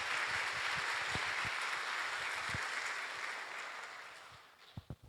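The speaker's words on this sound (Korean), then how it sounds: "큰 박수로 우리의 마음을 전달합니다." Congregation applause at a church revival meeting in northeast Ohio, a broad sustained wash of clapping that gradually thins and fades out, leaving a few scattered claps at the end.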